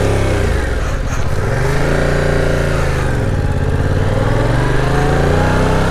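Stock exhaust of a 2022 Yamaha R7 riding close by, loud and continuous, with engine pitch rising and falling as the throttle opens and closes, and small pops on the overrun; no talking.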